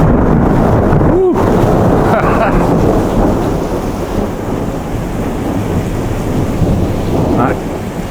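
Thunder from a close electric storm rumbles in a heavy, sustained roll, with rain and wind hissing over the microphone, fading slightly and then swelling again.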